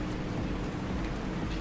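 Steady rain in the Pacific Drive driving game, a dense, even hiss of falling water, close and unbroken for the whole brief stretch, no talking.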